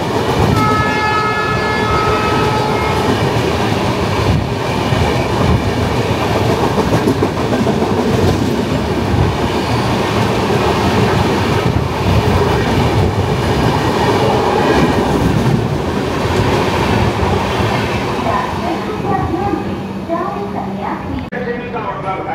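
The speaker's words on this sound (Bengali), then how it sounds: "ট্রেন আমাদের ছেড়ে দিল মেচেদা স্টেশন" The Tamralipta Express pulls out of Mecheda station with a steady, loud rumble and rattle of coaches heard from on board, a short horn at the start, and voices talking over the running noise.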